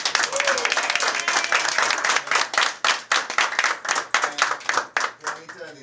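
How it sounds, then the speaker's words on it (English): Audience at a campaign event in Chandler, Arizona breaks into steady, close applause with dense overlapping claps, while a speaking voice comes through near the start. "Let's give them a round of applause."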